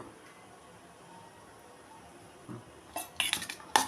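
A spoon mixes chili powder, pepper and chaat masala in a bowl. The opening is quiet, then a burst of bright metallic clinks and scrapes comes close up near the end.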